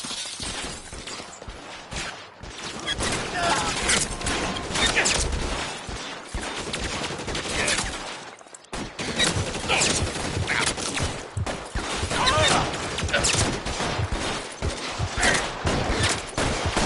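Dense gunfire in a PS4 video game cutscene, with sustained volleys of shots and crashing impacts running almost continuously, loud and busy, with a short pause partway through.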